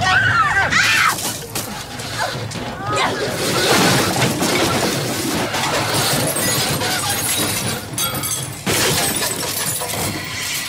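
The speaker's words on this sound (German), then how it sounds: "Wir haben uns überschlagen." A loud, chaotic crash of a vehicle rolling over, with shattering glass and grinding impacts, followed by continuous clattering debris and shouting voices throughout, in a science fiction radio drama.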